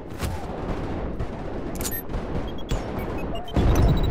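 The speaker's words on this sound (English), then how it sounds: "They tossed a grenade down here, what the heck?" Gunfire bursts crack through a tense firefight in the shooter game Trepang2, scattered shots rattling near and far before a grenade blast lands with a deep, loud boom near the end.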